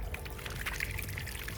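Brown water gushing out of the radiator of an 89 Chevy truck during a coolant flush, a steady close pouring splash with no talk.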